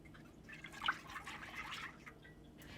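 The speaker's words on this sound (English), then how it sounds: "pour the heavy cream and the whole milk into a big saucepan" Heavy cream and whole milk stream into a large saucepan, a soft liquid pour with gentle splashing and trickling that swells briefly early on, then continues as a quieter steady flow.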